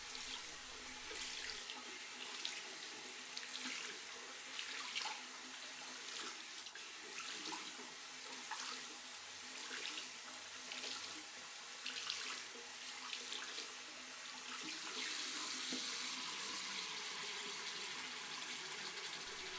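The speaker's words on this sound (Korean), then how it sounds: "다시 첫 번째 패드부터 흐르는 물에 꾹꾹 짜줍니다" Used car polishing pads being rinsed and squeezed under running tap water in a sink, a steady splashing gush with periodic squishing surges as the pads are pressed, close and continuous.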